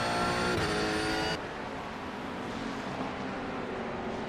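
Race cars at Monza on an opening lap, a dense roar of several engines at once with a harsh, steady high-revving drone that shifts in tone partway through and carries on loud and close without any voices.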